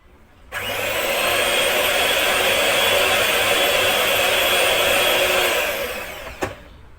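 An electric mixer works bread dough of milk, egg and salt, its steady, loud whirring motor starting abruptly, running evenly for about six seconds and then winding down, ending with a small knock.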